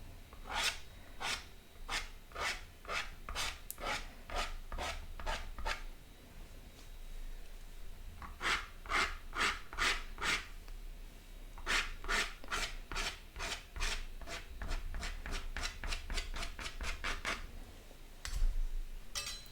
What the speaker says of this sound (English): So I'm just scraping that wet paint with my palette knife.